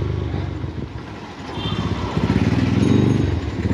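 A Taro GP 1V3 motorcycle engine running, a low throbbing mechanical drone that dips briefly then swells and grows louder and more rhythmic toward the end.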